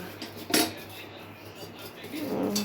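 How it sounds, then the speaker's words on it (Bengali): A metal spoon scrapes and clanks against a pan of carrot halwa, with one sharp clatter early on and softer scraping strokes after, close by and moderately loud over a low background hum. "একটু নাড়াচাড়া করে নিচ্ছি"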